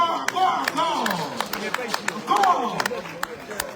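Scattered applause with sharp individual claps breaks out at a French gathering. People keep talking over it the whole time, and the clapping comes in irregular bursts.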